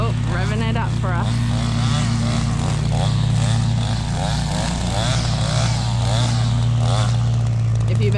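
A Bad Boy mower's engine drones loud and steady in the background, revving with a continuous low hum while a person talks over it throughout.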